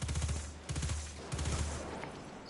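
Rapid submachine gun fire in the video game Destiny 2, three close bursts of quick shots with short pauses between, fading into a softer tail.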